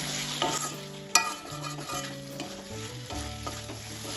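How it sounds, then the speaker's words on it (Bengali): Fried prawns stirred and sautéed in a pan with ridge gourd, potato and spices, a steady sizzle under a background music bed with a few sharp utensil scrapes. "এবার চিংড়ি মাছের সাথে সব কিছুই ভালোভাবে আবারও কষাবো।"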